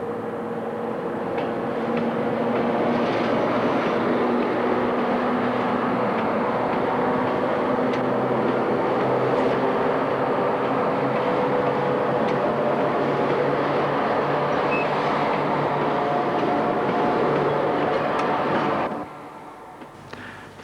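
South African Class 7E electric locomotive hauling a train past, a long steady rumbling roar with rail noise that holds for nearly twenty seconds, then cuts off abruptly.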